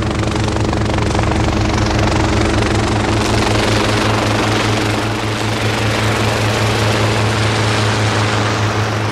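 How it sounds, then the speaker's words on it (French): A helicopter sets down on the rim of a volcano crater in Indonesia, its rotor beating in a loud, steady, pulsing chop with a continuous engine whine throughout. "l'hélicoptère de la Calypso se pose à la barbe du monstre assoupi"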